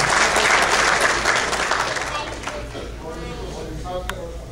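An audience claps to welcome a guest to the stage at an international Urdu poetry gathering in Richardson, Texas, the applause loud and dense at first and then thinning and fading toward the end.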